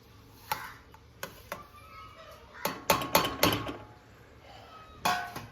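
Grated dried coconut is roasted in a pan for a Maharashtrian mutton masala, heard as sparse metallic scrapes and clinks of a spoon against the pan, some sharp and close, with quiet gaps between.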